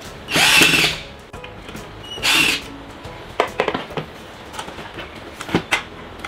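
Bolts are tightened with a power driver while a Mollar CM810 mini electric metal cut-off saw is assembled. Two short whirring bursts are followed by close clinks and knocks of metal parts being handled.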